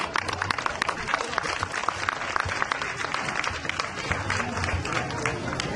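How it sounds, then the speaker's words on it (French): Children and villagers applaud at an award ceremony for top pupils of a holiday course in Sinématiali, a dense, continuous wash of clapping with crowd murmur underneath, steady and loud throughout. "applaudissez-vous."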